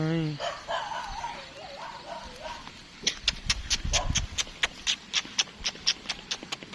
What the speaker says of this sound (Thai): น้องเห่าใส่เพราะเราใส่เสื้อโคน